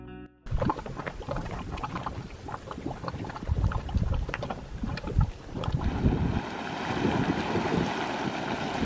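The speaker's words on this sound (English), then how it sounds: "There's a short boat ride across the Waikato River into the geothermal field." A short boat ride across the Waikato River carries a continuous rumble of motor and water with wind buffeting the microphone, plus some mechanical clunks and splashes close by.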